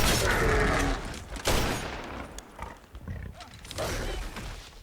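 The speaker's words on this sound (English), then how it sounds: "Classic sniper sound." Sniper rifle fire in a Halo video game: a loud, sharp blast with a long rolling tail, followed by a second crack and further echoing game noise, with no talking.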